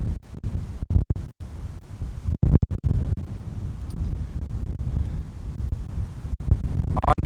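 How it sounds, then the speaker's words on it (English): Wind gusts buffet an outdoor microphone with a rough, low rumbling roar that surges and drops in uneven bursts, broken by brief near-silent gaps. "Got another gust of wind coming through, guys."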